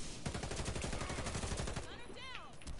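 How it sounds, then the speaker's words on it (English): Rapid loud automatic gunfire in the video game Warface, a continuous burst of close shots, then a voice speaking over the ongoing shooting. "He's shooting me."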